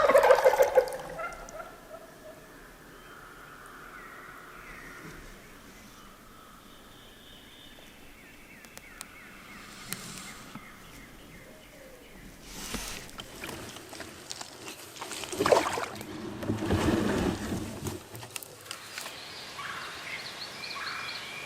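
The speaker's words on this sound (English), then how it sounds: "Birds should be gobbling pretty good this morning." Wild turkeys gobble from the woods beside a river at dawn, heard from a kayak; faint, distant gobbles rise over quiet ambient sound, with occasional paddle and water noises nearer by.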